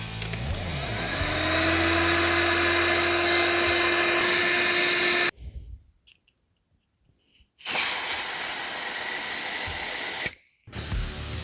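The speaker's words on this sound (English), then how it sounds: "Apologies for the loud noise, but I've had to put the heater on because it's cold." A heater blows with a loud, steady hiss and whine in a workshop where a damaged fuel tank is being prepared for paint, cutting off twice into near silence before starting up again.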